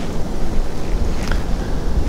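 Steady wind buffeting a microphone beside the water during a fishing trip, a loud, dense, rumbling roar that never lets up, with nobody speaking.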